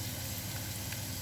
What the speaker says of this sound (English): Now we're going to put in some of the white stalk part of that spring onion.